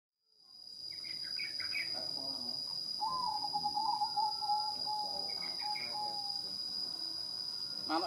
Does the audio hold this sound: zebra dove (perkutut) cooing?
yes